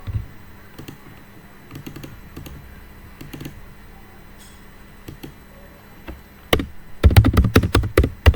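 Computer keyboard keys clatter in scattered taps and short bursts, then a quick, louder run of typing near the end, close and dry with no voice over it, as VLAN settings are entered on a networking lab machine.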